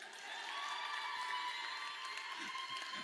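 An audience in a church claps steadily and evenly in a reverberant room. Faint cheering and crowd murmur blend into the continuous applause.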